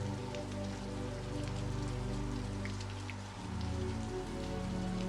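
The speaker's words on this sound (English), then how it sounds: "The rain keeps its steady work on the glass." Steady rain patters on window glass in a dense, even hiss with a low constant hum beneath, soft and unbroken throughout with no voices.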